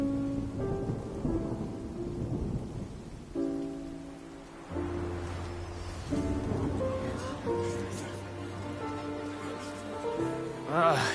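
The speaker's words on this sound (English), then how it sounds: "It's raining again?" Rain falls steadily with low thunder rumbling in Genshin Impact, under shifting music-like tones, all at a moderate level.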